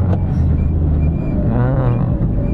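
A car pulls away in first gear on an incline, its engine rumbling low and steady close by, then the revs climb briefly as the clutch is let out with a little throttle.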